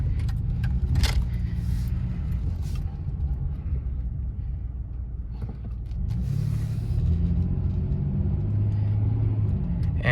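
A 1999 Ford Taurus with a V6 rolls along and accelerates, heard from inside as a low steady rumble with road noise, a few clicks and rattles, and a swell of engine drone later on.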